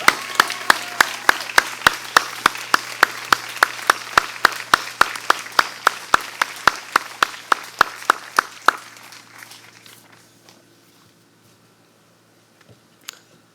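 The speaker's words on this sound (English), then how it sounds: "Can we all stand and applaud" Standing audience at a school graduation ceremony gives applause, heard as a regular series of sharp, evenly spaced claps that continue for about nine seconds before fading into quiet room tone.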